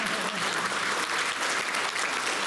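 An audience at a Philippine Independence Day gala night fills the room with dense, continuous applause. The clapping is loud and unbroken and carries no speech.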